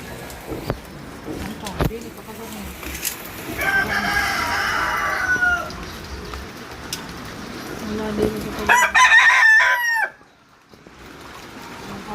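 Chickens clucking and a rooster crowing loudly nearby, with other birds and voices talking in the background; the crow cuts off abruptly.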